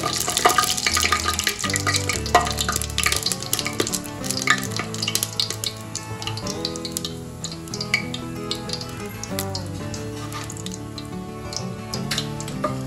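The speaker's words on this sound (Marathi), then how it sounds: "तेल चांगलं गरम झाले तर यामध्ये मी दालचिनी, इलायची, शहाजिरा, लवंग आणि काळी मिरी टाकायची थोडं" Whole spices (cinnamon, cardamom, shahi jeera, cloves and black peppercorns) fry in hot oil for chicken biryani, giving a steady close sizzle with crackling pops and stirring clatter that carries through the whole stretch.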